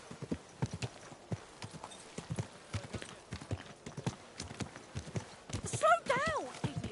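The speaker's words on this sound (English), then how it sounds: "Your horse nearly trampled me." Horse hooves clip-clop in a steady walking rhythm through a medieval town in Kingdom Come: Deliverance II, close and distinct, while a voice speaks over it and a horse neighs near the end.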